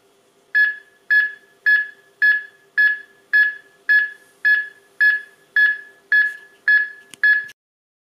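A HeartSine defibrillator's CPR metronome sounds a steady series of a dozen sharp, evenly spaced beeps, clear and close with a faint hum beneath and no talking.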